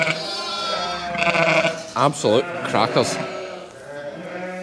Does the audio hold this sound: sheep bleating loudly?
yes